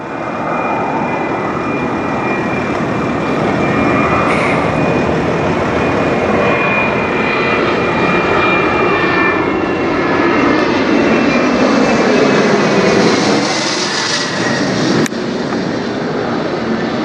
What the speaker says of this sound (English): Embraer Praetor, or Praetor 500 from Nassau, CFSYX,